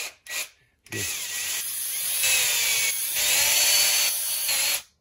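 A power drill whirs up after a couple of brief clicks, spinning steadily with a high rubbing whine for several seconds before cutting off, during engine assembly on a 1975 Triumph TR6.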